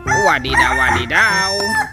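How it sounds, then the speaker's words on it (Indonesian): A toy rooster lets out a loud, near electronic crowing call lasting nearly two seconds, with a voice chiming in briefly over it. "Ada ayam berkokok."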